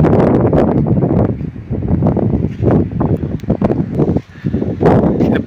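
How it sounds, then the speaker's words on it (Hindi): Strong afternoon wind gusts through the tree leaves in a rural Uttarakhand hillside village, a loud, continuous rushing and rustling that swells and briefly dips, with wind buffeting the microphone and no voices. "यहाँ पे देखो कितनी हवा चल रही है, बहुत ज्यादा पत्तियां हिल रही है।"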